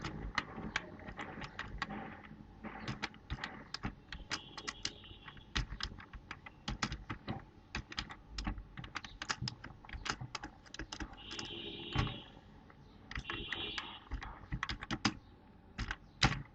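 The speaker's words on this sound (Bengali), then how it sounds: "তো আমি একটি কোড প্রথমে লিখব" Steady rapid keystrokes on a computer keyboard while code is entered, sharp clicks in irregular bursts with brief pauses, close and clear with no talking.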